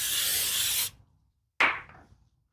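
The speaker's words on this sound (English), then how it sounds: "I'm gonna spray it off and clean off that a little bit" Two bursts of aerosol cleaner sprayed onto a glazed rear brake during a brake job: a long hissing spray of almost a second, a pause, then a shorter sharp spritz that tails off.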